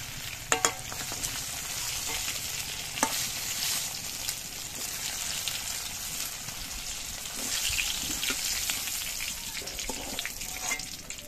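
Fried eggplant pieces lifted out of hot oil, with a continuous close sizzle of bubbling oil and a few clinks and scrapes of the utensil against the pan.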